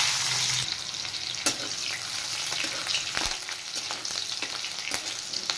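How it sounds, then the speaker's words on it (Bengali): Slit green chillies fry in hot oil with five-spice (panch phoron), a close, continuous crackling sizzle with sharp pops and spatters and a few stirring knocks, steady throughout with no talk. "কাঁচা লঙ্কাগুলো একটু ভালো করে ফ্রাই করে নেব।"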